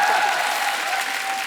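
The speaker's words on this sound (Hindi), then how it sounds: "ये जब तालियां मारते हैं ना" A studio audience at a comedy talk show claps steadily, a full, even wash of applause that fades slightly toward the end, with no voices over it.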